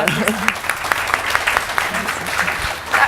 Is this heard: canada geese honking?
no